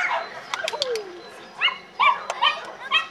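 A small dog at a dog agility competition in Bischheim yelps several times in short, high-pitched bursts, close by, with a whining slide between some of the yelps.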